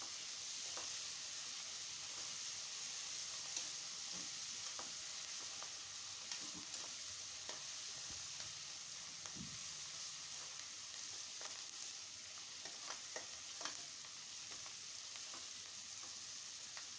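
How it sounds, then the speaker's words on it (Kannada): Chopped fenugreek (methi) leaves fry in hot oil in a pan for methi bath, a soft steady sizzle running throughout with faint scrapes of stirring scattered on top. "ನೆಕ್ಸ್ಟು ಹೆಚ್ಚಿಟ್ಕೊಂಡಿರೋ ಮೆಂತ್ಯ ಸೊಪ್ಪು ಹಾಕ್ಕೊಂಡು ಬಾಡಿಸ್ಕೋಬೇಕು"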